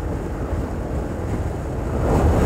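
The Cachoeira do Roncador waterfall near Bananeiras gives a continuous low roar of rushing water, buffeted by wind on the microphone and swelling slightly louder toward the end.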